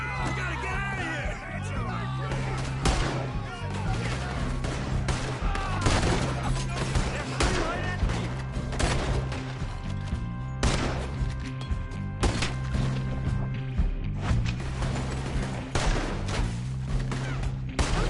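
Dense gunfire fills a Red Dead Redemption 2 shootout, rapid overlapping shots and bursts crackling without pause, with shouting voices and talk running underneath throughout.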